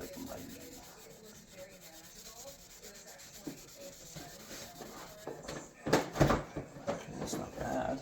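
Cloth rubbing lacquer thinner into steam damage on a wooden valance and door, soft rhythmic scrubbing close by that grows louder and more vigorous toward the end.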